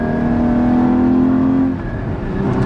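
Porsche Cayman GT4 engine revving hard on a canyon drive, a loud steady rising drone that drops off as a gear shift comes in, then the engine picks back up, close and continuous with no talk.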